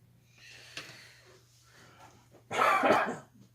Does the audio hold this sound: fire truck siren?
no